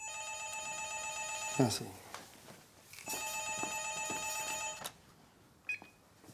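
Old-style telephone bell rings in two long bursts in a French film scene, a bright insistent trill interrupted by a thump and brief speech in between.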